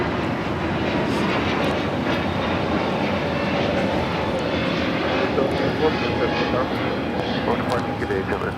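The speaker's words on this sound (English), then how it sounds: "Lufthansa A380 Super, Flight 452, coming in from Munich, now heading to the gates" A Lufthansa Airbus A380 airliner taxis toward the gates at Los Angeles LAX, giving a steady, broad engine roar that stays constant at moderate distance, with an airport-wide rumble and a voice talking over it.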